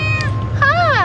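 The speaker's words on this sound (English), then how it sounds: "Hello again, Maui cat." A cat outdoors near a wildlife sanctuary in Kahului, Maui, gives two close meows, a short one followed by a longer rising-falling one, over a low rumble of nearby machinery.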